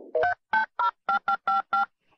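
Telephone keypad tones during a call transfer, seven evenly spaced dual-tone beeps in a quick steady rhythm, clear and close with no talking.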